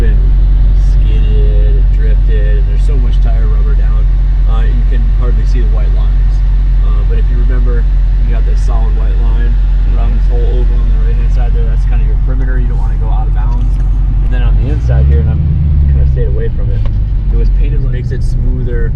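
Car drifting on a tire-rubber-covered race track at a high performance driving school, heard from inside as a steady loud engine drone with rumbling low end and a brief surge near the end, under continuous talk.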